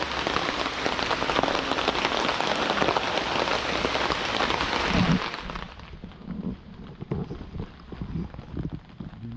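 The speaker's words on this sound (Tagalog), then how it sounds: "Maulan dito." Heavy rain pours down at a campsite near Mahogany in Real, Quezon, a dense, loud hiss of drops on surfaces that suddenly eases into lighter, patchier pattering with a few close drips.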